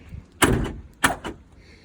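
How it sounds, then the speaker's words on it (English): A car door solenoid is triggered by a key fob on a door with no handle, giving two sharp, close mechanical clunks about half a second apart. "I have on my key set here this thing that opens the door"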